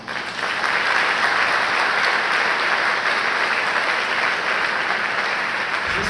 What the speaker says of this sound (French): je vous demande d'applaudir chaleureusement